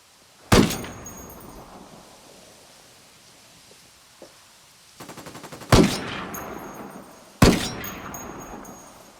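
Rifle fire in the video game Ghost Recon Wildlands from a semi-automatic Dragunov sniper rifle: three loud, sharp shots spaced a couple of seconds apart, each with a long decaying echo. A brief rattling burst comes just before the second shot.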